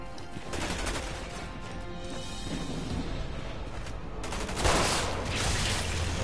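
Gunfire in the video game Resident Evil 6, a dense, steady barrage of shots and crashes running throughout, with a louder burst near the end and no talking.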